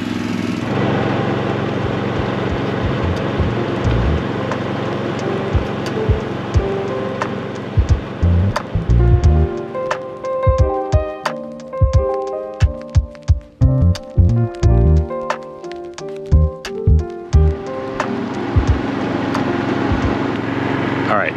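A small gasoline engine on a hybrid-electric wheelchair runs steadily on old varnished fuel, a continuous low throb with irregular knocks and rattles growing busier midway, with some talk mixed in.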